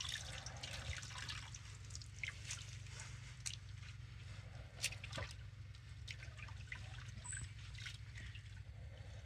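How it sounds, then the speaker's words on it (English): Water drips and trickles from a wet washed sheep fleece hung in a polytunnel in winter, scattered irregular drops over a steady low background hum, close and fairly quiet. "first of all I'm gonna put it to drip in the polytunnel"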